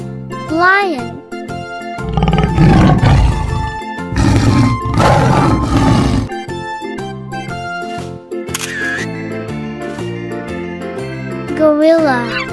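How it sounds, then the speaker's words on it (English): Lion roar in an animal crossing animation, loud and growling amid cartoon music, effects and a child-like announcer's voice calling out animals. "Lion."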